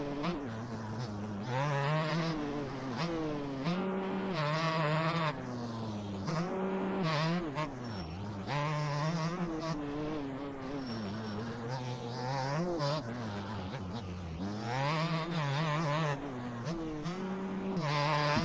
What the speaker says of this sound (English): This two-stroke just rips